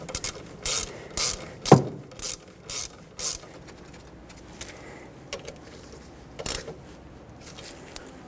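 A ratchet wrench snugs up brake caliper bolts on the rear brakes of a 2006-2010 Hyundai Sonata, giving a series of close, sharp clicking bursts in quick rhythm, then sparser clicks and a few faint taps.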